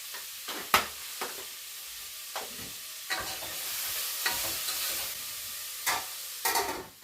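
Sprouted-gram masala frying in a little oil for sambar sizzles softly while being stirred by hand, with scattered scraping knocks and clatters over the hiss, near and fairly quiet.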